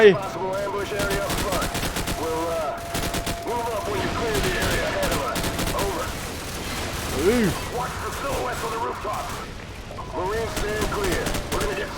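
Rapid bursts of automatic gunfire crackle almost nonstop in Call of Duty: Modern Warfare, mixed with explosions and game effects, while voices talk excitedly underneath.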